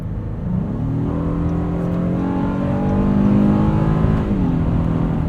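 A 2024 Honda Passport Trailsport's 3.5-liter VTEC V6 accelerates hard, engine note climbing steadily in pitch and growing louder, heard from inside the cabin without any talking.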